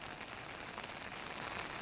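Heavy monsoon rain pours down outdoors in a rural village near a river, making a constant hiss of dense rainfall on surfaces, steady and fairly faint with no voices.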